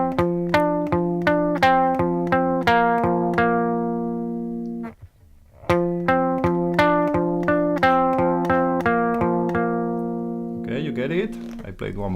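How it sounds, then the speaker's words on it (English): Electric guitar plays measures 7 and 8 of a song, a steady picked riff of repeated ringing notes, close and clear, played twice with a short pause between and a faint strum at the end. "So when we put together the measure 7 and 8, sounds like this."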